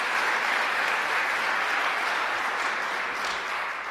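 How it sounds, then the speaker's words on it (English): Sustained audience applause at an event where New York Governor Kathy Hochul acts on community college, steady dense clapping for nearly four seconds, tapering slightly at the end, with no voices over it. "So let's give him a round of applause as well."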